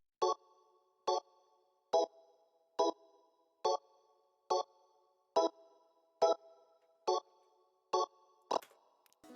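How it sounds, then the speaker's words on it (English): A sustained organ patch from a Triton synthesizer plays a beat melody of short, evenly spaced chord stabs, about eleven clear repeated hits at a steady rhythm, bright and alone with no talking. "I added in this organ from Triton. And yeah, here's how this organ sounds."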